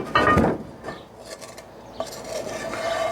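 A utensil scrapes and rasps against a Dutch oven while one pound of ground sausage is smoothed flat, a close rough rubbing stroke followed by softer scraping.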